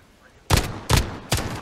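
Three loud, sharp pistol shots ring out in a video game, evenly spaced about 0.4 seconds apart, each a bright crack with a short decaying tail over quiet background.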